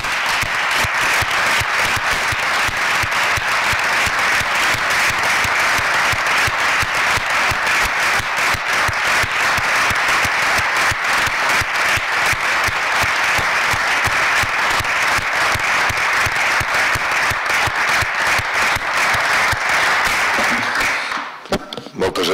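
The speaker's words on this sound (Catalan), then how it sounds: "demanaria un aplaudiment" A municipal council meeting breaks into long, sustained applause honouring a worker, many hands clapping densely and evenly for about twenty seconds before stopping abruptly.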